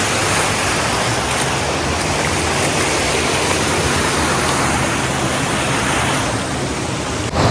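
Water pouring over an overflowing dam rushes in a steady, loud, broadband roar that stays constant and close throughout, with no voices.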